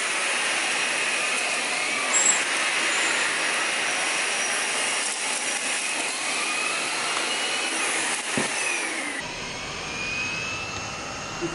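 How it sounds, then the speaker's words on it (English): A cordless Henry HVB160 vacuum cleaner sucks up breakfast cereal with a steady, loud whining roar, its turbo spinning throughout, with rattling debris and a sudden drop in tone near the end. "So let's do the same test with the cordless Henry vacuum."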